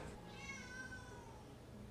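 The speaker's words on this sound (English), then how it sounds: "this cat, it screams at me to fill up her food dish" A house cat meows for food, a faint, drawn-out indoor call with a rising and falling tone, heard alone.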